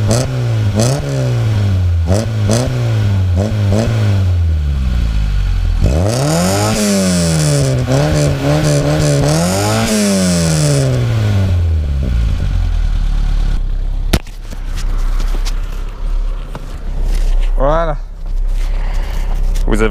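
A Peugeot 205 car fitted with a sport air filter is revved up and down again and again, heard close and loud from the rear. Its rising and falling engine tone gives way to a lower, rougher idle with clatter near the end.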